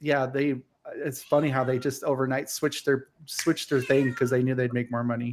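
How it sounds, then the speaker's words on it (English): A domestic cat meows repeatedly in the background while a person talks over it in the foreground. "Just let it keep meowing"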